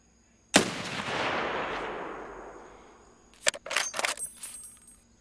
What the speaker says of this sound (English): Shooting the dude right next to Stormgrim